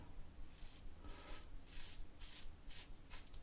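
Soft, repeated rasping strokes of a single-edge safety razor scraping across stubble against the grain, several short passes in an uneven rhythm, close and fairly quiet.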